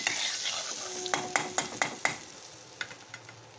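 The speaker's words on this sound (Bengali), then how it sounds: "এই পেঁয়াজটা দিয়ে দিলাম, এবার পেঁয়াজ লঙ্কা দুটোই দিয়ে দিচ্ছি।" Onion and chilli hitting hot oil in a pan for chicken croquettes, a bright steady sizzle broken by several sharp metal clinks of a stirring utensil against the pan, close and without speech.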